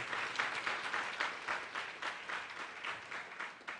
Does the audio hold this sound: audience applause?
yes